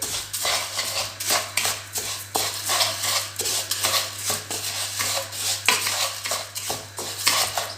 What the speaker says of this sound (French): Vous mélangez.